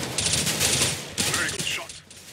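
Rapid bursts of automatic gunfire from a first-person shooter video game, loud and close, firing in dense volleys for about two seconds before tapering off.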